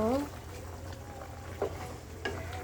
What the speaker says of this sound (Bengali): আমার মাছটা আমি এখন দেখব কেমন হয়েছে মানে এখন নেড়ে দেব